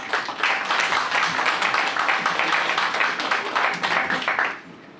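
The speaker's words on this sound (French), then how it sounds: "c'est à nous de vous applaudir" Sustained audience applause with many hands clapping densely and evenly for about four seconds, loud and close, then tapering off quickly near the end.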